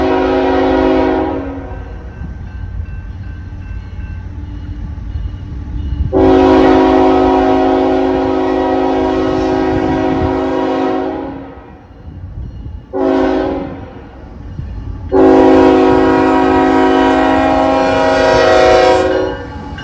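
A freight train with locomotives rolls past near the rails in southern Columbus, with a steady rumble of cars under several loud horn blasts, two long and two shorter, with no talking.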